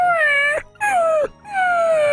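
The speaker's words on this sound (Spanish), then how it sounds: "Y el perro llora." A dog howls and whimpers in three long, loud, wavering tones, each sliding downward in pitch, close by with short pauses between them.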